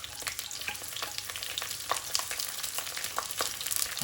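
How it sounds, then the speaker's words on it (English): Onion and green chillies sizzling in mustard oil in a pan for a beef bhuna gosht, a steady crackling fry with faint stirring clicks, close and continuous, no voices. "I've just cut 1 onion and about 5 green chilies, they're going in."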